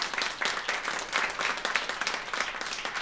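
An audience at a brass ensemble concert breaks into lively applause, a dense, fairly even patter of many hands clapping with no voices over it.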